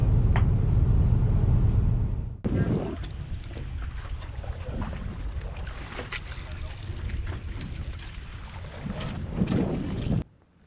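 Fishing boat running out to sea off New Jersey, a steady low engine rumble with wind buffeting and water rushing past, continuous and loud until it cuts off at the end, no talking.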